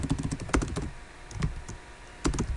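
Bursts of close computer keyboard typing while writing a console print line of code, clusters of quick clicks separated by short pauses, with no talking.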